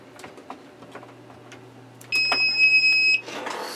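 A video camera emits a high electronic beep tone continuously for about a second among quiet clicks and handling noises, close by.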